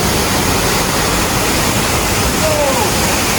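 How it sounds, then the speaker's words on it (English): Rushing water at Chenku Waterfall near Accra, a steady broadband roar that stays loud and even throughout, with a faint brief vocal sound near the end. "this is Chenku Waterfall. Wow, this is amazing"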